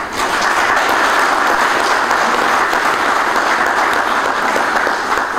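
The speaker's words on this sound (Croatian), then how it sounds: "Ja vas molim jednim aplauzom." Audience applause at a book promotion in Zenica, loud sustained clapping from a hall full of people lasting several seconds, dense and even throughout.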